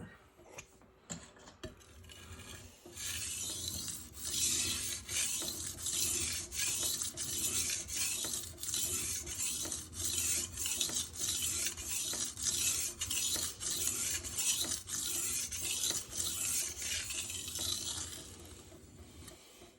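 An S35VN steel knife sharpened on a Rockstar 320 grit whetstone, with rhythmic gritty scraping strokes repeating steadily for about fifteen seconds, close and moderately loud with no talking.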